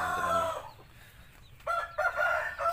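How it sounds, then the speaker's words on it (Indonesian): A rooster crows loudly nearby, then after a short pause crows again, with chickens clucking faintly in between. "nah ini ayamnya"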